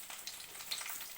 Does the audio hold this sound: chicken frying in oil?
yes